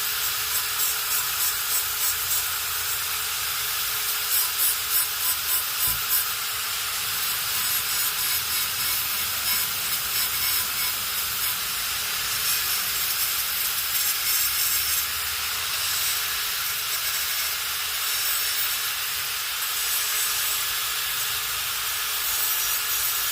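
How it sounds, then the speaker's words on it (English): Abrasive deburring and E-coat removal on a drilled automotive firewall panel during fabrication, a steady close-up grinding hiss with gritty scraping that runs continuously with little change in level, no voices. "I just want to take the burrs off the back of it and off the front and clean off the E-coat real quick."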